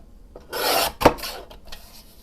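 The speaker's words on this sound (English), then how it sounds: "I'm going to trim this side down just another hair." A paper band cut from junk mail is being trimmed by hand, giving a brief rasping stretch of paper noise followed by one sharp snip, close and alone.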